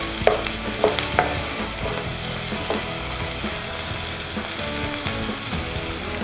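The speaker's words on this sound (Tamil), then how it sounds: "இப்போ வெங்காயம் வந்து நல்லா வதங்கிடுச்சு." Onions sautéing in a pan for vegetable kurma, a loud continuous sizzle with a few sharp metal stirring clinks near the start, close up and without talk.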